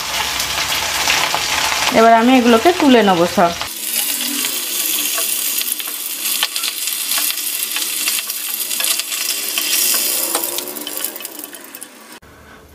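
Fish heads sizzle steadily as they fry in mustard oil in a wok, a dense crackling hiss that carries on loudly throughout, with a brief spoken remark and a stirring clatter near the start.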